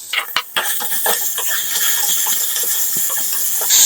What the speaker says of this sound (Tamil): ஒரு 2 செகண்ட் நல்லா வதக்கிக்கோங்க